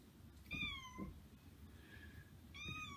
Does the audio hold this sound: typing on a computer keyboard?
no